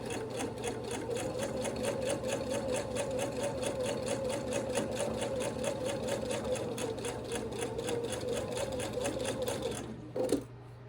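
Sewing machine stitching quilt fabric pieces, a steady rapid mechanical whir with fine rhythmic ticking, close and continuous for about ten seconds before stopping with a brief clunk.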